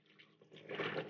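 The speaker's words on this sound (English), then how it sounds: "I have my yeast and my sugar, and I am just going to add my warm water." Warm water is poured into a bowl holding yeast and sugar for focaccia dough, a faint splashing trickle that grows fuller and louder toward the end, close by.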